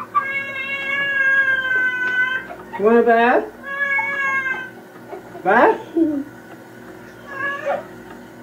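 A cat gives several drawn-out, complaining meows near a sink, loud and close, while a person talks softly between the cries; recorded on cassette.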